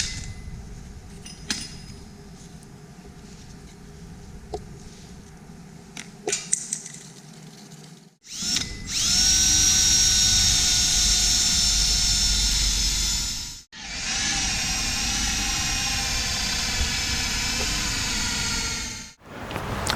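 A power drill bores a hole through a wooden bed board on a 1963-72 Chevy or GMC truck in two long, loud, steady whining runs separated by a brief pause.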